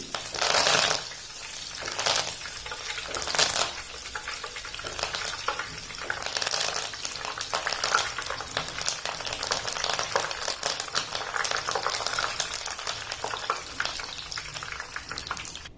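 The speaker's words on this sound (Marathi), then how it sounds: "कढीपत्त्याची पाने सुद्धा तळून घ्यायची" Curry leaves fry in hot oil while a puffed-rice chivda is made, giving a steady, close, crackling sizzle with bursts of sharper popping throughout.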